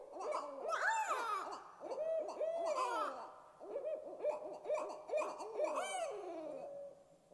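A pair of barred owls calling back and forth in an elaborate courtship duet, a rich stream of rising and falling hoots, cackles and wavering notes, loud and close, with no other sounds.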